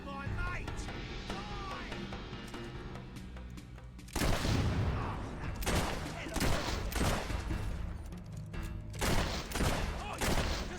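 Fable 3 video game gunfire: after a few quiet seconds, a loud burst of rapid overlapping shots and booms rattles on in clusters until the end.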